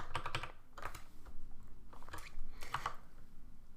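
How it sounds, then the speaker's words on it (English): Close, quiet keyboard typing on a computer keyboard in irregular bursts of clicking keystrokes with short pauses between them, no voices. "And we can type our byte string"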